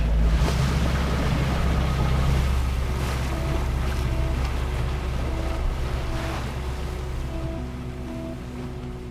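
A boat engine drones steadily at sea around the Faroe Islands and Foula, running at about 6-7 knots, a low constant hum under wind and rushing water, slightly fading toward the end.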